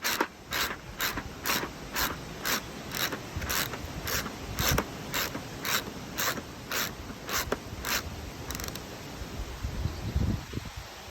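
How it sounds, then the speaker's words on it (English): Double spring wheel mechanism on a G3D firing FST rounds, a rapid run of about twenty sharp regular clicks over a constant loud hiss, ending in a softer rumble, with no voices. "This is a double spring wheel, so you can fire all of the content in there with one go."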